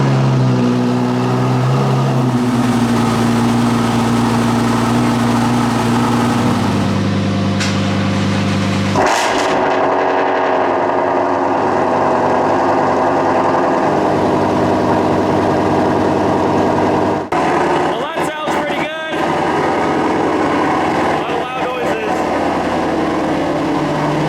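A Shelby GT350R's 5.2-liter naturally aspirated V8 cold-starting, settling into a steady low idle rumble that shifts pitch as it warms, with a loud drop in the middle and a speaking voice over it.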